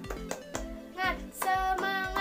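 Fifth-grade primary school class clapping the 'tepuk semangat' chant together: a run of sharp, evenly spaced claps in a quick rhythm, mixed with children's chanting voices in a classroom.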